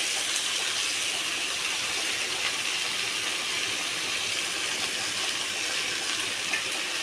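Drumstick leaves dropped into a hot pan, giving a steady, even sizzling hiss that holds at one level with no talk.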